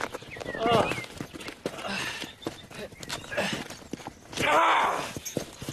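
Horse hooves clip-clop through a wooded setting among trees, irregular thuds mixed with heavy breathing and groans, with people talking over them.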